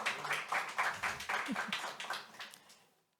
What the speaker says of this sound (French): je vous propose déjà d'applaudir un peu notre panel d'experts et d'expertes